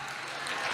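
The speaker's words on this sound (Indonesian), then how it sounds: "Tepuk tangan sekali lagi." Church congregation applauding during a sermon, a short, faint, even patter of many hands clapping heard from a distance, with no speech on top.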